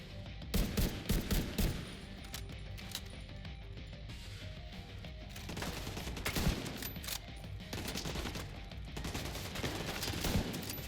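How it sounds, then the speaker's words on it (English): Sniper rifle gunfire during a firefight in the video game The Division 2, with sharp cracks and scattered volleys of shots at a fairly low level and no one talking. "Oh, now they got snipers of their own."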